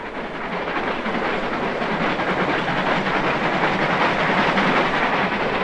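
A steam locomotive works hard up a 1-in-70 gradient at 210 boiler pressure, loud and near. The rapid chuffing exhaust and rolling wheel clatter build slightly over a constant roar of steam and motion, with no voices.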